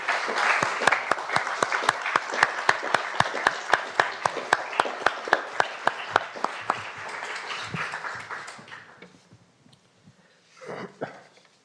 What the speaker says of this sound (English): So with your applause, let's thank Professor Roosevelt and Mary Calvi.